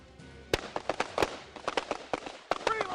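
Sharp carbine gunshots ring out in irregular bursts on a tactical shooting drill, a dozen or so loud cracks spaced unevenly, with a brief pause before a final cluster and faint voices behind.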